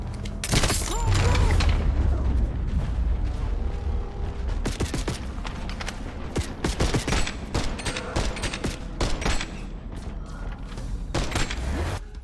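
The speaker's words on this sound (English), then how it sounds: "We chase after the last leader that got away and shoot his limo to explode." Gunfire and a limousine explosion in a video game, with a heavy boom near the start followed by dense, rapid bursts of shots and crackling impacts that continue throughout.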